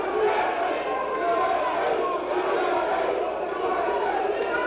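A crowd at an amateur boxing match between USA and Italy, chanting and cheering continuously in a dense, loud roar with voices blending throughout.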